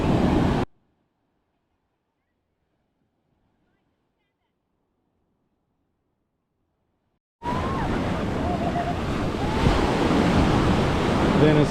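Rough ocean surf at Venice Beach, Florida, with a continuous wash of breaking waves and wind noise on the microphone after a stretch of silence, and faint voices underneath.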